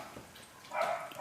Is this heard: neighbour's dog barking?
yes